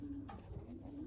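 A one-year-old racing pigeon coos in a breeding loft, its low, steady cooing calls close and clear with no talk.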